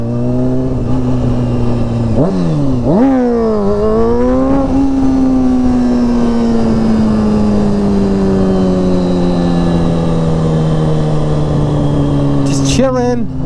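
A motorbike engine at wheelie practice during a night ride, revving loudly and close, pitch climbing and dipping through quick throttle blips before settling into a long steady drone.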